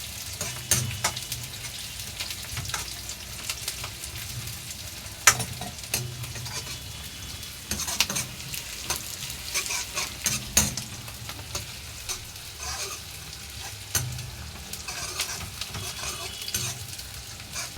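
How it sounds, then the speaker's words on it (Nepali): Onions fry and sizzle in a kadai for chicken gravy while a utensil stirs them in irregular scraping strokes, close and moderately quiet, with no talking. "प्याज फ्राई गर्दा प्याज एकदम ब्राउन हुनुपर्छ।"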